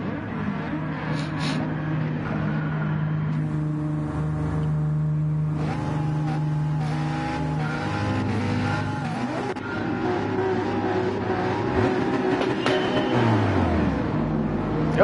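Race car in Gran Turismo 7 during a Manufacturer's Cup race at Spa, engine loud and close, climbing and dropping through gear changes with shifting whine and brief tire squeal, no talking.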